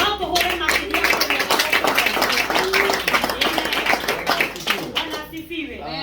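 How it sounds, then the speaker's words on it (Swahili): A church congregation claps rhythmically and continuously for Jesus, the loud crowd applause filling the room while voices sing or call out over it, fading slightly near the end. "Tupigie Yesu makofi."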